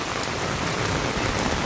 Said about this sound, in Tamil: நல்ல கடும் மழை பெய்யுது